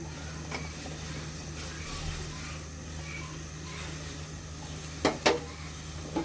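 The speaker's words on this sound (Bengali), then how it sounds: "টমেটোগুলো উল্টিয়ে দিব" Tomatoes cooking in a pan for tomato paratha give a steady low sizzle, with a couple of brief clicks and scrapes as they are turned over near the end.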